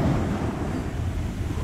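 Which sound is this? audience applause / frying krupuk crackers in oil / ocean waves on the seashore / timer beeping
ocean waves on the seashore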